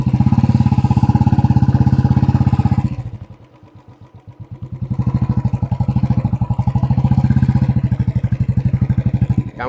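A Royal Enfield Classic 350 ABS motorcycle engine chugs steadily with its fitted silencer, a loud, close, rhythmic thump that dips briefly in the middle before returning to full strength, with no talking.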